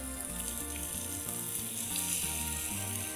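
Chopped onions and tomatoes sizzle in a pan for an Egyptian oxtail tagine, a steady frying hiss heard alone under a background melody, with no speech.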